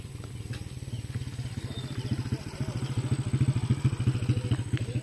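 A motor engine drones steadily with a pulsing putter that grows louder toward the end, as if a motorbike is approaching, while voices talk nearby.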